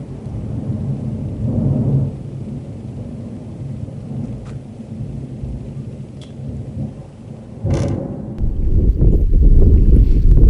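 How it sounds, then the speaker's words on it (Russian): A sharp crack from a nearby lightning strike gives way to a loud, deep rumble of thunder, with wind and rain noise underneath. "Молния, сразу гром. Это ударило куда-то рядом."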